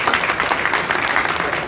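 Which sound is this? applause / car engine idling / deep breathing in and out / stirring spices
applause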